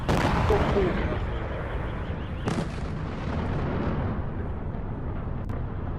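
A deep, heavy boom from a Russian missile strike on Kyiv rolls out from a distance, followed by a sharp crack and a long rumbling tail under background noise.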